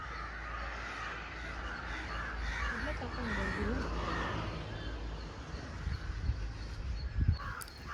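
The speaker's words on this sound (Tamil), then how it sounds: "எங்களை பார்த்தோன்னே அத்தனை காக்காங்க எங்களை தாண்டி போனாங்க." A flock of crows caws near a temple in Namakkal, overlapping calls that rise and fall over steady outdoor rumble, with a few louder knocks near the end.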